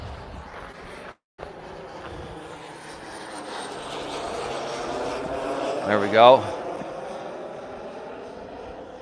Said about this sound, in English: Saw that plane coming.